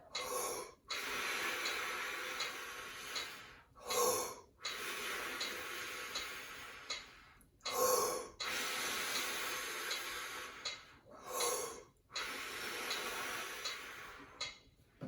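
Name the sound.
fast breathing, in for one count and out for four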